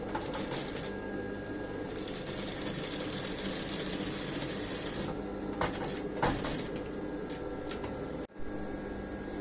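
A sewing machine stitches a patch onto the crotch of denim jeans, running in a loud continuous whir with brief pauses and stops, no voices.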